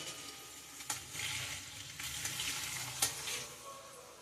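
Food being stirred in a cooking pot over a steady sizzle, with a few sharp scrapes of the spoon against the pot, close and alone without talk.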